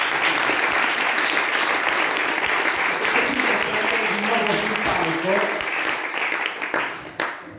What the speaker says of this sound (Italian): farei un applauso